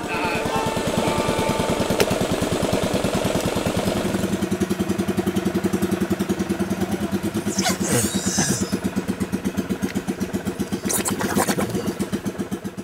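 A small engine drives an air compressor for backyard compressor mining, chugging steadily and close with a fast, even rhythm throughout, with brief higher clatter and hiss bursts late on.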